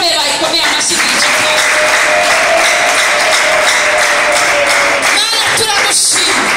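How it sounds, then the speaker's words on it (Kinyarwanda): A church congregation breaks into sustained, loud applause, many hands clapping densely and evenly throughout, with a voice faintly audible underneath. "Abantu bumva ko Imana ikoze ibintu bikomeye bayikomeye amashyi menshi"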